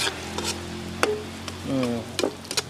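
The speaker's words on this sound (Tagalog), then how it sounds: "yung sili ilagay na natin para kumapit na yung anghang niya, Mami D, habang ginigisa natin" Chili sautéing with meat in a pan, a soft sizzle under intermittent stirring scrapes and spoon knocks against the pan, fairly quiet and close.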